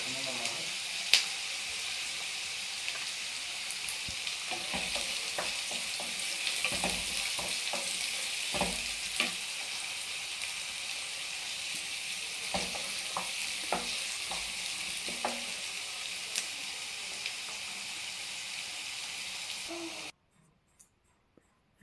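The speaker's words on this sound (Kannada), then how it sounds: "ಈಗ ಎಣ್ಣೆ ಕಾದಿದೆ, ಈರುಳ್ಳಿ ಸೇರಿಸ್ಕೊಳ್ಳೋಣ. ಈರುಳ್ಳಿನ ಸ್ವಲ್ಪ ಚೆನ್ನಾಗಿ ಫ್ರೈ ಮಾಡ್ಕೊಳ್ಳೋಣ." Onion frying in hot oil for a dry fish gravy, with a steady sizzle under repeated scraping and stirring taps of a spatula that end abruptly near the close.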